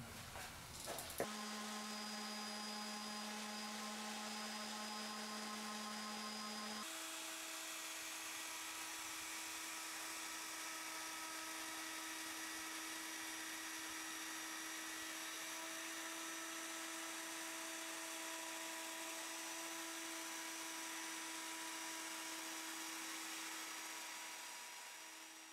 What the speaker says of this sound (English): I will just do some light sanding to remove the glue